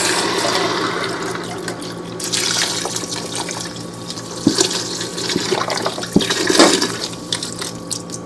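Water pours from a container into a pot holding tomato sauce and chicken broth for a lentil soup with Swiss chard, a continuous splashing stream with a few louder gurgles and splashes near the middle and toward the end.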